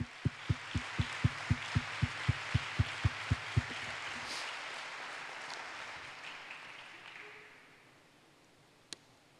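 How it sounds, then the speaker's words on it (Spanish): A congregation at a Father's Day church service applauds, a broad wash of clapping over a steady rhythmic low thumping that stops midway, then the applause fades to quiet with one sharp knock at the end. "Un aplauso para él."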